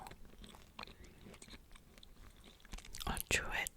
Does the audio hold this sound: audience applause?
no